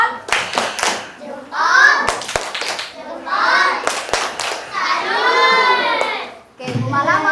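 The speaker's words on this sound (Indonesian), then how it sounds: "Kita beri tepuk jempol untuk kelompok 1." Elementary school children in a classroom perform a rhythmic 'tepuk jempol' clapping routine, sharp group claps in short bursts alternating with children chanting and an adult voice, close and loud.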